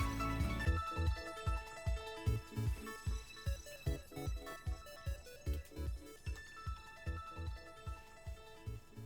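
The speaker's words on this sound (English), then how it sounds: "Your ARC phone is beeping." The Arc Phone in Pokémon Legends Arceus beeps in a steady repeating rhythm, about twenty evenly spaced chiming pulses over a backing tone, clear and alone.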